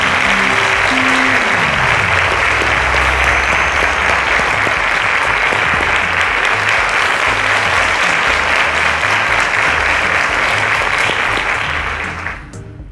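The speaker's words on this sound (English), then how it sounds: "A round of applause to him, please." A television quiz-show audience applauds loudly and steadily for about twelve seconds before the clapping fades out at the end.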